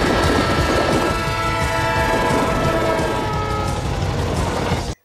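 Sound effect of a train at a railway level crossing: a loud, continuous rumbling passage with steady tonal ringing layered on top, sustained for about five seconds before cutting off abruptly, with no voices.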